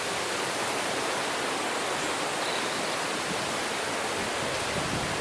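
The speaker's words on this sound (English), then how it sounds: "Love camping by the river." A river flowing past a riverside camping spot on a rainy day, a loud, close, steady broadband rush of water with no pauses.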